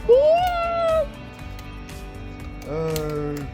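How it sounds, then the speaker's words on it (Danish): A cat gives two loud, drawn-out meows with a pause between them, heard close up during a road trip. "Ja, det er katten."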